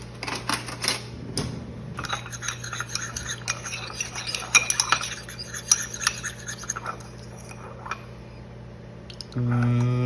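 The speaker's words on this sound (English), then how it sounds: "I'm gonna use something easier to stir that with." A utensil stirs a thick keto anise cookie glaze in a bowl, brisk scraping and clinking strokes close by over several seconds, ending in a low steady hum.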